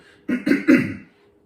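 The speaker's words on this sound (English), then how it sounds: "I've got a bit of a cough" Three quick, dry coughs in a row, close and fairly loud, then quiet, during a gym workout.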